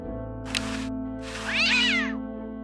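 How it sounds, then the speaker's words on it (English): A cartoon cat in the point-and-click adventure game Day of the Tentacle gives a short chirp and then a longer, clear, drawn-out meow, up close and alone over a steady background music hum. "What a pretty pussycat."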